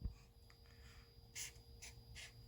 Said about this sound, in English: let's write down a little message